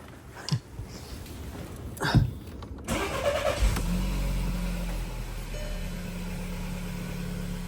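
An Audi A3 1.2 TFSI starts after a few soft clicks and knocks. The starter cranks briefly, then the engine catches and settles into a steady close idle with no talking.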